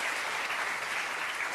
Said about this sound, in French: j'aimerais qu'on l'applaudisse pour ce qu'elle est